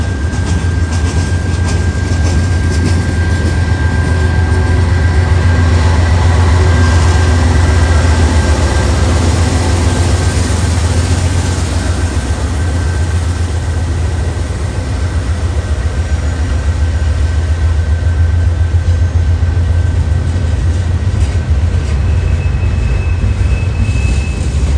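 A freight train hauling ethanol tank cars, then a spacer car and a distributed power locomotive, rumbles past continuously, loud and close, a steady heavy roar of wheels and engine throughout with no talking.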